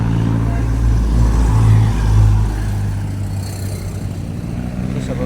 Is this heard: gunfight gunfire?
no